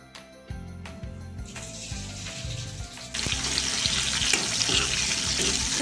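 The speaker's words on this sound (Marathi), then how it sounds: "बघा, कांदा लाल होत आहे" Onion fries in oil with mustard seeds and cumin for a cashew curry, the sizzle starting quieter and then swelling sharply into a loud, dense hiss partway through, with light clatter and no talk.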